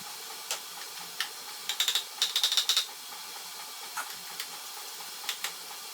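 Torx bolts being worked loose from the winch cover of a B&MFab front bumper, heard as faint scattered metallic ticks and a short cluster of quick clicks under low background hiss.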